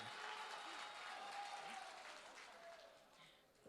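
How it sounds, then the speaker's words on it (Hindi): A crowd at a live performance gives sustained loud applause, a dense clatter of many hands that fades slightly toward the end. "एक बार जोरदार तालियों से इस्तकबाल किया जाना चाहिए।"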